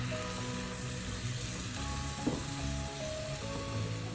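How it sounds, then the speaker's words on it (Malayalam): Chopped tomatoes are added to a frying chicken curry base and stirred in, producing a steady close sizzle with soft scraping and stirring sounds throughout and no talking. "ഈ സമയം നമുക്ക് അരിഞ്ഞ് വെച്ചിരിക്കുന്ന തക്കാളി ചേർക്കാം അത് ഇതോടൊപ്പം ഒന്ന് മിക്സ് ചെയ്യാം"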